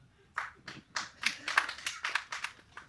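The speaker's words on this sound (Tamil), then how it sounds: "இப்படி ஒருத்தர் 2 பேர் கைதட்டுறீங்கல்ல" A few audience members clap sporadically at a Tamil literary speech, a short run of sharp, uneven claps from only a couple of hands rather than full applause.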